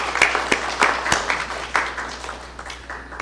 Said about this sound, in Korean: 감사의 박수 한번 보내겠습니다.